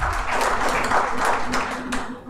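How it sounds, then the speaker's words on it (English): An audience at a medical AI panel discussion claps for the panelists. The dense, loud applause is continuous and eases off slightly near the end. "A big applause may be given for each and every panelist who made this event a grand success."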